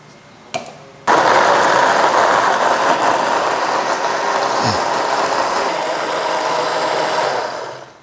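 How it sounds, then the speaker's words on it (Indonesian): An electric blender runs loud and steady, whirring through shallots, garlic, red bird's-eye chilies and curly chilies with water, starting abruptly after a brief click and running continuously for about seven seconds before cutting off. "Ini biar cepat kita blender aja."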